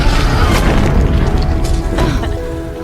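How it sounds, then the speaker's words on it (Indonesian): A giant anaconda explodes in a film set in a Kalimantan jungle after a flare ignites petrol on its body, giving a loud, heavy boom with crashing debris that rumbles and slowly fades. "Lalu Cool dengan cepat menembakkan flare ke ular itu hingga bensinnya membakar tubuh lalu berakhir meledak"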